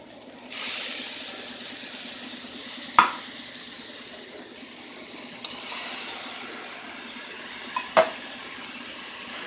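A spoon stirs stevia into a simmering turkey pasta sauce in a pot, a soft continuous sizzle and hiss broken by a few sharp clinks of the utensil against the pan.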